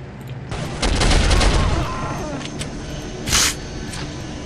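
Gunfire in Soldier of Fortune: a dense burst of rapid shots rattling over about a second, then scattered single reports and one loud, bright crack near the end, with someone talking between them.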